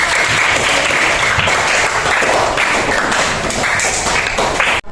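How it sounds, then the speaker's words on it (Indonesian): Schoolchildren in a classroom clap together in a loud, dense burst of applause that holds steady for about five seconds and then cuts off abruptly. "Beri tepuk tangan anak-anak untuk"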